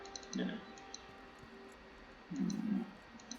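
Faint mouse clicks from playing the game Lost Ark come in two short clusters, quiet and close against a low background hum.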